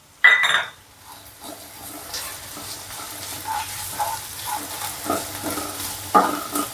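Fresh turmeric, garlic, ginger and chillies fry in a pan for haldar nu shaak, a quiet sizzle broken by a few sharp clinks and scrapes of a spoon against the pan.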